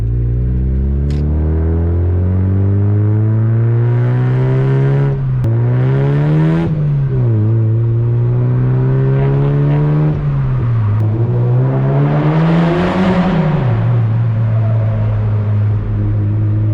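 A Mazda MX-5 NB roadster drives through a tunnel, its engine droning loud and close, rising and falling with revs and gear changes while the enclosed space booms the sound back.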